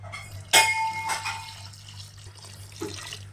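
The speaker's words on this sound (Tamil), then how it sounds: "இப்போ இதில் வந்துட்டு ஒரு மூணு டம்ளர் அளவுக்கு தண்ணியை சேர்த்துக்கலாம்" About three tumblers of water splash into a metal pressure-cooker pot of goat intestine gravy with a sudden ringing clank, followed by a short gush and trailing trickles and drips.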